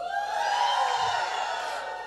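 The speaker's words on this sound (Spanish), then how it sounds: "por favor, de un grito de júbilo" An audience at a Hebrew women's religious gathering giving a shout of joy, heard as a sustained, loud, blended whooping cheer from many voices, continuous for the whole moment.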